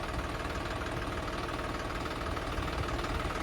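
A tractor engine idles steadily up close, a continuous low rumbling drone with no talk over it.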